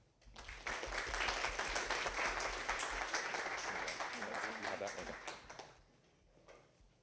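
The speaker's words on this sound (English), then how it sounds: "let's please give a warm round of applause for our first student speaker." Audience applause for a student speaker at a college honors reading event, a dense steady wash of clapping that swells quickly, holds loud for several seconds, then thins out toward the end.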